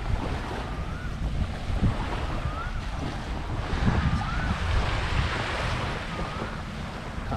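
Steady surf washes onto a beach on Phi Phi Island, Thailand, a continuous wash of waves and breeze with wind buffeting the microphone and no talking.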